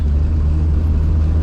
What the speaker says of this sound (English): Stop and go traffic in this car is so bad. The decel is stupid.